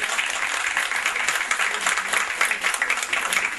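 A small audience at a Dew Cosmetics event applauds a guest. Continuous, even clapping holds at steady volume for nearly four seconds, with no voice over it.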